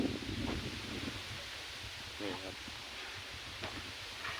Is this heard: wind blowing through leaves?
yes